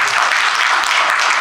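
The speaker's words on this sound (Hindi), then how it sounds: "तालियां बजा दो।" Dense, loud audience clapping at a medical talk, a short steady burst of many hands with no speech on top.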